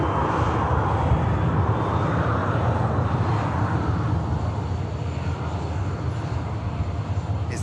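A Canadian Air Force Hercules turboprop transport taxis at an airport. Its engines give a steady, droning rumble at moderate distance throughout, with no talking.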